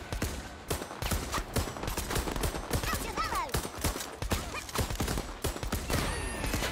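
Dense, continuous gunfire and explosions from a Worms Rumble battle, rapid overlapping shots filling the whole stretch at steady high loudness.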